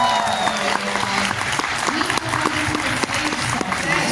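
An audience at a celebrity Q&A panel breaks into steady, dense applause that holds at full strength throughout, with crowd noise and voices mixed in.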